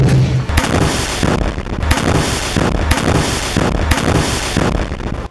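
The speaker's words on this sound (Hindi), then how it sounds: "बिल्डिंग के जंगल में आईडीएफ के एक सैनिक पर रॉकेट से हमला होता है" Rocket attack explosions in a built-up urban combat zone in Gaza, heard as a loud, continuous series of sharp booming blasts recurring roughly every second, dense and close with no speech.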